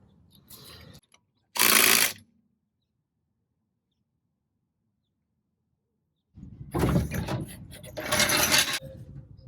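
A thin-walled spark plug socket wrench on a 1969 VW Bay Window Bus gives short, close bursts of ratcheting clicks. Long silent gaps separate them, with a longer run of clicking near the end.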